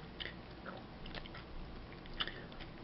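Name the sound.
crunching on New Orleans kettle-style potato chips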